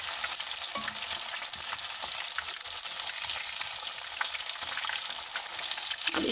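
Fish fries in a pan that it does not stick to, a loud, dense sizzle with a steady crackle that runs unbroken throughout and has no talking over it.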